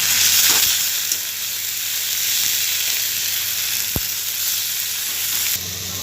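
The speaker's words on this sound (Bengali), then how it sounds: "এবার আমি শাকটাকে নুন দিয়ে নেড়ে নেব।" Drumstick leaves seasoned with salt and turmeric fry in a pan with a constant, even sizzle, punctuated by a few soft taps from stirring.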